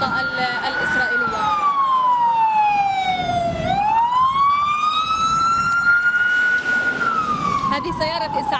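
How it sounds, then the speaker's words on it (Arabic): An ambulance siren wails loud and close during street clashes in Shuafat, Jerusalem. Its pitch sweeps slowly down and up in long rising and falling cycles over a rumbling vehicle engine. "هذه سيارة إسعاف"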